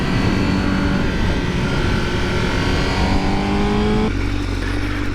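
2020 Honda Fireblade motorcycle powering out of a corner on the road: a loud, continuous engine roar rising in pitch as it accelerates, then dropping sharply near the end as it shifts, with heavy wind rush throughout.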